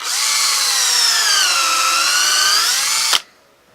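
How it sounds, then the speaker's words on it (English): A power drill fitted with a tapered bit whines steadily for about three seconds at a high, slightly shifting pitch, then cuts off abruptly, leaving near silence. "I use my drill here with the tapered bit"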